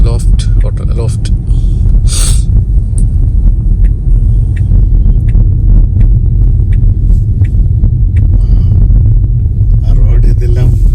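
A Lucid Air electric sedan passes on a road, heard as a steady low rumble of tyres and traffic with some wind buffeting, while people talk over it.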